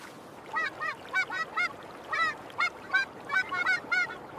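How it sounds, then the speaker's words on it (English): Trumpeter swans calling over water, a series of about a dozen short, resonant honking notes in irregular clusters, fairly close and clear against a quiet background. "It gets its name from its resonant deep call that sounds like a French horn echoing across the water."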